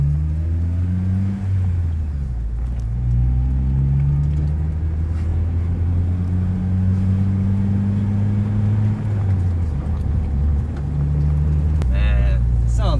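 Deep, throaty note from a 3-inch aftermarket exhaust on an Acura TSX rises and falls in pitch as the engine revs up and settles, loud and close, with brief talking near the end.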